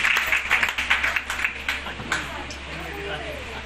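An audience at an award ceremony giving medals and certificates to trained young women breaks into brisk, scattered clapping that fades out after about two seconds, with a voice heard as the clapping tails off.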